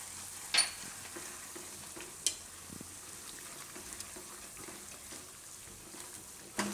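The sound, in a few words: gravy cooking and being stirred in pan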